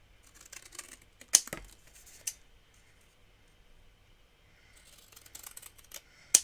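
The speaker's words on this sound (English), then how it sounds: "I'm going to use my scissors just to cut around here." Scissors snip around a paper Christmas light bulb card in a few sharp, isolated cuts separated by quiet pauses, close and without speech.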